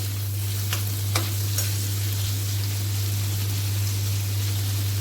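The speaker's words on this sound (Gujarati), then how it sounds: "પનીર થોડુંક ગુલાબી રંગનું થાય ત્યાં સુધી એને કરી લઈશું, સાંતળી લઈશું આપણે" Paneer sautés in a pan over a full gas flame, giving a constant close hiss and sizzle with a few sharp stirring clicks early on, all over a low steady hum.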